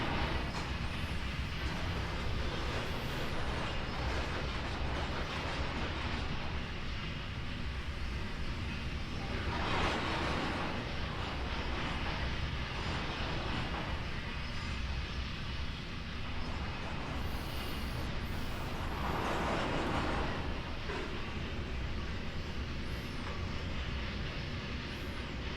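A freight train rumbles past in a train-driving video game, a steady continuous rolling drone with periodic swells of wheel and wind noise, fairly loud and sustained throughout with no talk.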